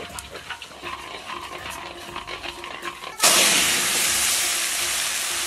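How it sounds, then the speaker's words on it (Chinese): Marinated beef shank dropped into hot caramelized rock sugar syrup in an oiled pan erupts into a loud, steady sizzle partway through, following quieter clinks and kitchen handling noises. "腌好的牛腱子开始煎喽，直接倒到烤好的糖水里"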